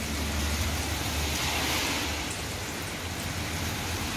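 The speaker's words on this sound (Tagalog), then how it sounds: "malakas na malakas ang ulan." Heavy rain pours down at a work site in Kuwait, a dense, steady hiss of water that holds at a constant loudness with no pauses.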